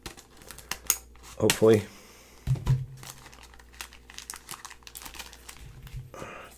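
Cutting open a sealed 1973/1974 Topps wax pack: crinkling wax paper and a few sharp snips and scrapes from a blade, close by, with a person speaking briefly.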